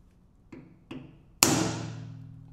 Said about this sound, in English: make the first mark with the center punch